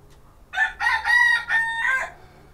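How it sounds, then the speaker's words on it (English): A rooster crows once nearby, a loud, drawn-out cock-a-doodle-doo in several rising and falling segments, heard alone over faint background hum in a radio repair workshop. "Wish that rooster had shut up."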